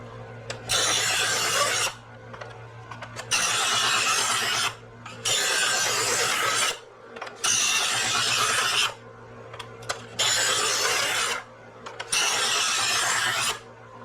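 A knife blade is drawn repeatedly across a knife sharpener, giving six loud, gritty rasping strokes about a second and a half each. The strokes come close up with short quiet gaps between them.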